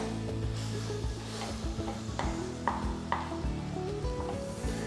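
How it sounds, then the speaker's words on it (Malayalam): Beef sautéing on high flame for a Kerala beef mappas, a continuous close sizzle broken by repeated scraping strokes of a spoon stirring the pan. "രണ്ട് 3 മിനിറ്റ് ബീഫ് ഇട്ടിട്ട് ഹൈ ഫ്ലെയിമിൽ ഒന്ന് സോട്ട് ചെയ്യുക."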